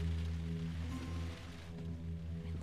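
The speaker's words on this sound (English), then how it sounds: "Yay, rain." Rain falls outside in the video game The Last of Us, a steady soft hiss of drops laid over a low ambient hum, with no voices.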